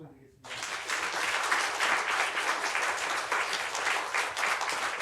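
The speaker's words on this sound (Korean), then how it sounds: "우리 힘차게 한번 박수 드리겠습니다." A Korean Methodist church congregation bursts into loud, sustained applause during a Thanksgiving Sunday service, the clapping starting abruptly after a brief quiet moment and holding as a dense, full wash of many hands.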